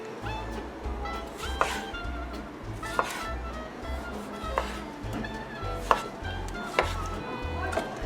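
A knife coarsely chops lahmacun filling on a board in a steady, close rhythm of soft thuds with sharper clicks every second or so, under a faint background hum.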